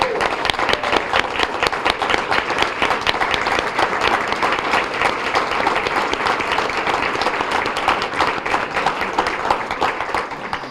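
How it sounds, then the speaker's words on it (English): Sustained audience applause fills a city council community recognition awards ceremony in Glendora, a dense, steady wash of many hands clapping at even loudness for the full length, with a faint murmur of voices beneath. "Give them a round of applause."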